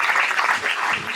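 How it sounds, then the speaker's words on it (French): A conference audience applauds steadily in a dense, continuous patter of many hands, fairly close and loud, with no talk over it. "Oui, alors on peut l'applaudir très fort."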